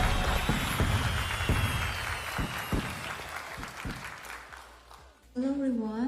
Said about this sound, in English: Let's give a round of applause for the winners.